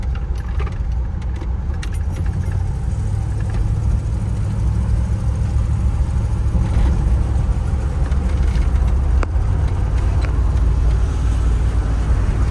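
A 1991 Jeep Grand Wagoneer engine labours uphill under load, a steady, loud mid-range drone with rumble that holds throughout, no talking over it.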